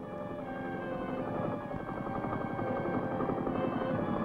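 A military Chinook helicopter flies on an army operation, its rotors and engine making a loud, continuous throbbing drone that holds steady throughout, with no talk.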